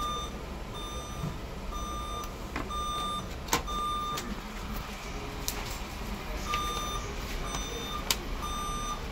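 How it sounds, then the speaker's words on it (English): Repeated electronic beeps from a nearby shop at a steady rhythm over a constant background hum, with a couple of sharp clicks along the way. "Actually this beep is not coming from my laptop."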